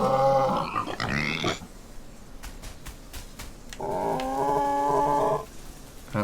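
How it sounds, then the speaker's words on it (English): Little pigs in the game Everything let out bursts of squealing, grunting calls, two tonal stretches separated by a pause with a few soft clicks, fairly close and without any talk. "Oh, some little pigs."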